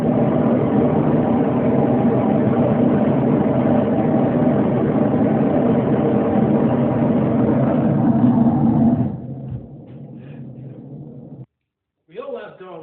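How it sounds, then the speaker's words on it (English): A steady, loud low roar of passing aircraft fills the air for about nine seconds, then drops to a muffled hum that cuts off, followed by a brief voice. "Air traffic."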